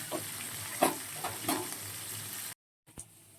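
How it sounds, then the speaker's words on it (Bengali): Pieces of katla fish frying in oil, a steady low crackle and hiss with occasional spatters and a few louder pops, briefly cut to silence near the end. "মাছটা ভেজে নেবো ভালো করে।"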